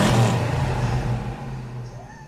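A Dodge V8 exhaust revs, a deep loud rumble that peaks at the start and slowly tapers off into a steady low drone.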